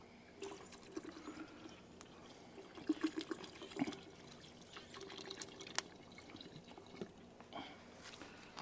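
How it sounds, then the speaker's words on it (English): A bottle of water pours into a coffee pot holding cut chicken breast, producing quiet, irregular gurgles and trickles that swell in the middle, with a few small clicks and knocks. "I'm going to put another bottle of water"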